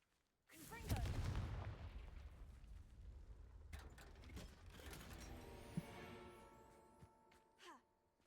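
A Confringo blasting curse in Hogwarts Legacy goes off as a sudden heavy explosive boom that rumbles and decays over several seconds, followed by crackling, mechanical clatter and a sharp whooshing burst near the end.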